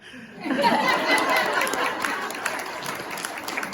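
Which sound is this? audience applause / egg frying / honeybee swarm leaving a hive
audience applause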